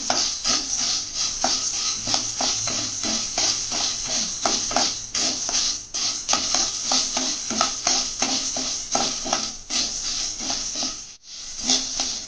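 Continuous dry scraping and rustling as mung beans are dry-roasted and stirred around a pan, with a steady gritty rasp throughout.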